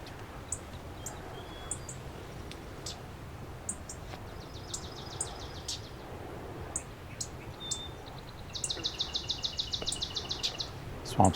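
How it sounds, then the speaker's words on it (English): In a marsh, a swamp sparrow delivers its rapid, evenly spaced trill, one faint run early and a louder, closer one near the end, amid scattered chirps from other birds and low wind. "Swamp sparrow again."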